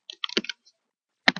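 Quick bursts of keystrokes on a computer keyboard, a rapid cluster of crisp clicks followed by a short pause and two more taps, close and quiet with no voices.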